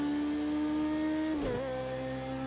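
A BAC Mono race car in Project CARS 2, its engine holding a steady high whine before a quick gear change dips the pitch, then pulling on again in third gear, loud and close.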